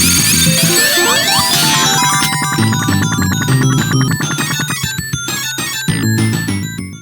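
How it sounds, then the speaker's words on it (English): A sped-up version of the Death Egg music from a Sonic 2 prototype plays in place of the 1-up sound after collecting 100 rings: loud, fast, cluttered chiptune notes running steadily for several seconds, no voices. "if you collect 100 rings, it plays a sped up version of the Death Egg music instead of the 1-up sound"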